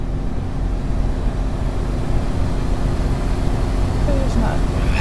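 Truck cab in American Truck Simulator with the window rolled down, a steady low engine and road drone running constantly, joined by a brief higher tone near the end.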